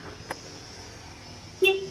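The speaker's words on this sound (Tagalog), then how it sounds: "Tignan po natin yung horn." A short, sharp horn honk from a 2024 Kubota L5018 tractor near the end, loud and close, following a quiet stretch with a faint click.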